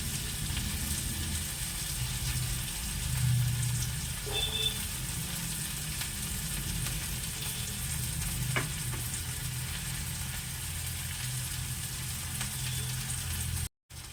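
A potato and paneer mixture for kachori filling frying in a wok over a low gas flame gives a steady, even hiss of sizzling oil that holds close and constant before cutting off abruptly near the end.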